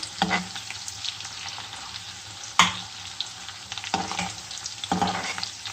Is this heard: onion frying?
yes